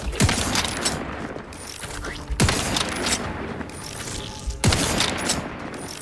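Sniper rifle fire in The Outer Worlds 2 cracks out as three loud, sharp shots spaced about two seconds apart, each trailing off in a broad echoing tail over game ambience.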